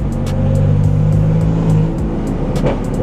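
A BMW M4 fitted with an aftermarket downpipe accelerates hard, its engine note a loud, close, sustained roar that holds steady for a few seconds and then eases slightly as the pull continues.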